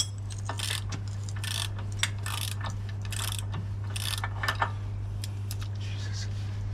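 A ratchet tightening front suspension arm bolts on a Land Rover L405, with repeated quick clicking bursts in a steady rhythm, close and clear over a constant low electrical hum.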